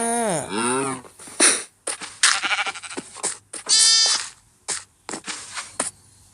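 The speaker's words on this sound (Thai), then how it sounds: "เฮ้ยแกะมันกินหญ้าเราหมดแล้ว" Minecraft sheep bleat while eating grass in a video game: a series of loud, wavering bleats, close and repeated in quick succession with brief gaps, with no talk.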